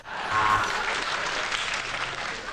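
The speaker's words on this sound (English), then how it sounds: "A round of applause?" Live comedy audience in London breaks into a round of applause, swelling quickly into a full, dense burst of clapping that holds steady, then fades slightly at the end, with no talk over it.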